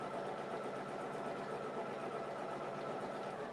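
An embroidery machine stitching out a mug rug, a fast continuous whirring hum with rapid needle chatter, steady and even throughout, fairly faint and close.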